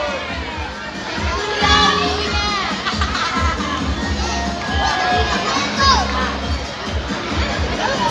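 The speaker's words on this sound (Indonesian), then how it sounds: "Sekali lagi aplaus yang meriah untuk UPTD SD Negeri 28" A large outdoor crowd at an elementary school marching parade for Indonesian Independence Day in Parepare cheers, claps and shouts, with children's voices prominent in a loud, continuous babble.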